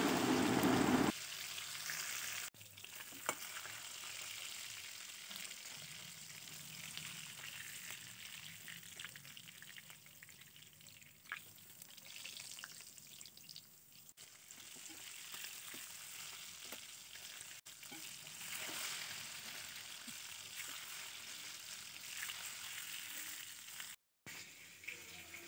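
Pomfret fish shallow fries in oil until crisp, a steady low sizzling hiss that runs throughout, quiet and continuous, with a few faint clicks and a brief louder burst at the start.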